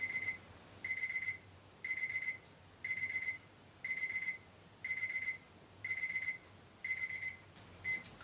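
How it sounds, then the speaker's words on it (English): An electronic alarm buzzer beeps in short regular bursts, about one per second, steady and fairly clear over faint background hiss. "What were you going to do when the buzzer rang?"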